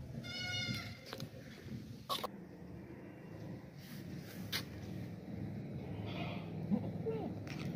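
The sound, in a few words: goat bleating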